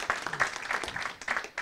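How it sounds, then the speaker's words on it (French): Audience applause for the speakers at a French political debate event, a short burst of clapping from a room of people, dense and moderately loud with a few voices mixed in. "Je pense qu'on peut applaudir nos intervenants."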